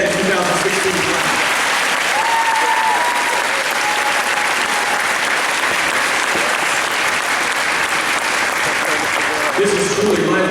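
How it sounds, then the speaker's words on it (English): Sustained applause from a crowd at a high school signing day ceremony, a dense steady roar of clapping with faint voices underneath. "Can we have one more round of applause for this record set in 2016 class?"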